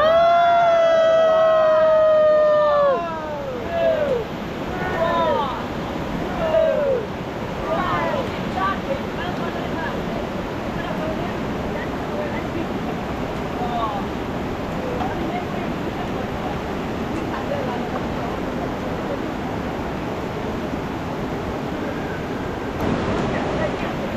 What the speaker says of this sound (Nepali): पानी परिरहेछ, लास्टै पानी परिरहेछ।